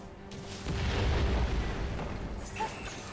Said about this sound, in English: Red Team's inhibitor been destroyed.